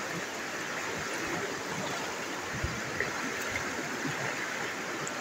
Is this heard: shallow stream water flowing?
yes